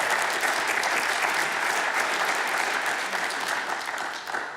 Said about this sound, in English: Big round of applause for Mr. Chuck.